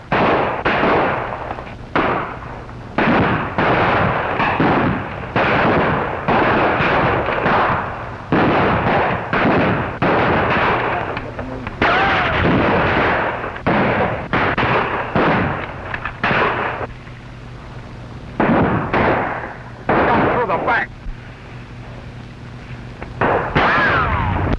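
A battle scene in the 1935 war serial The Fighting Marines has loud, repeated bursts of gunfire and booming shots over about twenty-five seconds, with only brief pauses between volleys.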